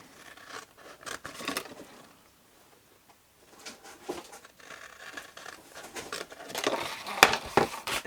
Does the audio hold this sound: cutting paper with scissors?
yes